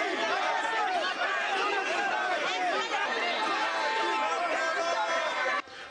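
Dense crowd greeting Senegalese president Macky Sall on his arrival in Gabon, a continuous loud babble of many voices cheering and chattering close by, steady throughout before dropping slightly at the very end.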